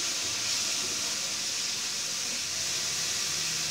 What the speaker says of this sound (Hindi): इसके अंदर गोभी ऐड करेंगे, गोभी को भी हल्का सा पकाएंगे।